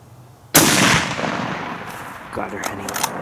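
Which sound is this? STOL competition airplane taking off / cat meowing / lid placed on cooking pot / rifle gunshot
rifle gunshot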